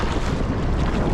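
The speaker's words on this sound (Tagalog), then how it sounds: "Lakas pa ng hangin." Strong wind buffets the microphone in a steady, loud roar while fishing from a boat, with a low rumble of water and boat noise underneath and no pauses.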